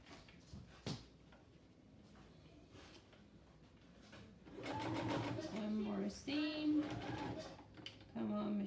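A home sewing machine stitches a DIY fabric face mask in short bursts of whirring motor and needle clatter, loud and close, with quiet handling noises and talk between runs.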